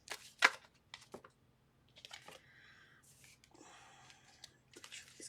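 Tarot cards shuffled by hand in quiet, soft bursts of riffling and sliding, close and faint, with brief pauses between handfuls and a few whispered breaths.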